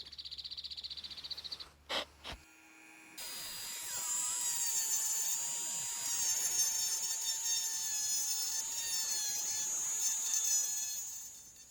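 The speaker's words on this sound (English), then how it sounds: "I'm using a Saburrtooth fine burr here, and it seems to work well" Saburrtooth fine burr on a rotary power carver grinding into a weathered pine knot; a few short clicks and buzzes give way to a steady high-pitched whine that runs on at close range.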